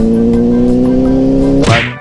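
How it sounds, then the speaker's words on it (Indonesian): A Honda CBR600 sport motorcycle fitted with a new racing exhaust revs hard and close, a loud, steady, rising engine drone held for a couple of seconds before it abruptly cuts off. "gila seneng banget gue pakai knalpot barunya Emon"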